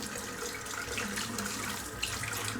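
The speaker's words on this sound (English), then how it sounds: "I'm going to rinse the brush out." Shaving brush rinsed under a running tap: a steady close stream of water splashing into a sink, continuous with slight shifts as the brush moves through the flow, no voices.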